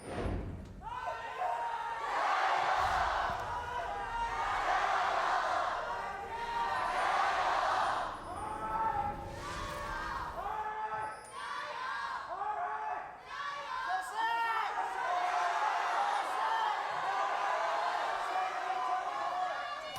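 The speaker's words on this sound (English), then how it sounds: "The crowd is ready." A large indoor esports arena crowd at a League of Legends playoff match roars and cheers in loud waves, with shouts and thumps rising and falling over twenty seconds.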